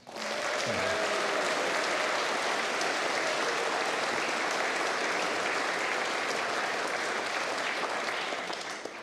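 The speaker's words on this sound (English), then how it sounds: "And I do think they need a really rousing applause." Steady, even applause from an audience at a sea shanty concert, a dense wash of clapping that holds for several seconds without voices, then stops abruptly at the end.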